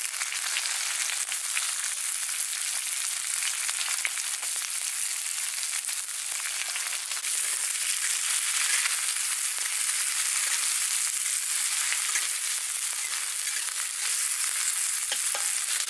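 Four small chopped onions fry in hot oil for a village-style dal tadka, a constant close sizzle with occasional stirring scrapes and no talking.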